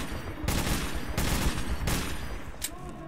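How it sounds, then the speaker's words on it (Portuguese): Machine gun fire in the video game Metro 2033 Redux comes as dense, rattling bursts of rapid shots over a continuous noisy game soundscape, moderately loud and with no talking. "eu vou usar essa metralhadora aqui"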